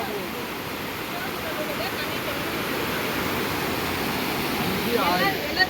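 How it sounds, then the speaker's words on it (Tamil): Loud, steady roar of water rushing from the opened gates of Sathanur Dam, continuous broadband noise throughout, with a voice faintly audible beneath it. "தண்ணி எவ்வளோ ஸ்பீடாக போயிட்டுருக்கு பாருங்கள்."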